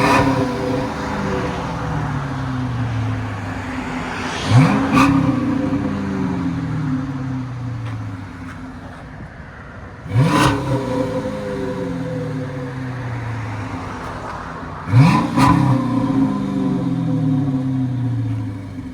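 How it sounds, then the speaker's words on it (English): A 2008 Chrysler 300C with a 5.7L HEMI V8 and Flowmaster Super 10 exhaust revs three times at roughly five-second intervals. Each sharp rise falls back to a deep, steady idle, heard up close and loud. "You guys want that hollow, nice deep tone? Go with the FLOWMASTER Super 10."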